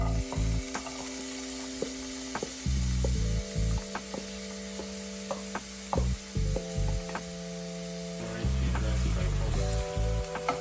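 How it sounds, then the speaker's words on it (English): Onions fry in hot oil with a steady close sizzle, while a utensil stirs and scrapes the pan in irregular strokes over it; no talk is heard. "Then we fry the onion."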